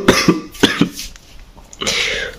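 A man with a bad cough gives a few harsh, close coughs in quick succession, followed after a brief pause by a rougher throat-clearing burst, all loud and near at midnight indoors.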